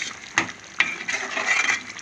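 Curry frying in a pan on a home stove, a steady close sizzle with a few sharp stirring scrapes against the pan, heard alone without talk.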